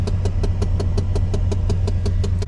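An old Chevy dually pickup, 31 years old with 130,000 miles, idles with a low engine rumble while a sharp, regular mechanical tapping repeats several times a second, close up and steady.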